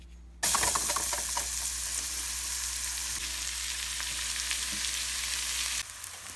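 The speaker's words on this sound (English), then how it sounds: "once the onions are sauteed and browned" Chopped onions sauté in butter in a pan for gravy, a continuous bright sizzle that starts abruptly, holds even and fairly close with a low hum beneath, then drops away near the end.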